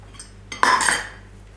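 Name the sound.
mixing carrot muffin batter with oil in a bowl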